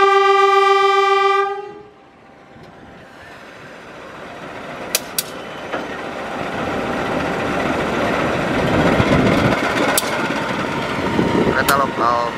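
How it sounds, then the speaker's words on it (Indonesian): A long blast of a train horn opens the clip as a local train departs Nagreg station, set high on an ancient volcanic caldera in Indonesia. The horn gives way to a swelling rumble of rolling wagons with clanks and squeals nearby. "Kereta lokal berangkat stasiun Nagreg."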